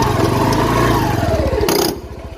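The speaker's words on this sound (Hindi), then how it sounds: "देखो टॉप गियर में गाड़ी जा रही है।" A motorcycle engine runs steadily in top (fourth) gear during a riding lesson, a continuous mid-pitched drone with a rapid pulsing rhythm that falls away sharply near the end.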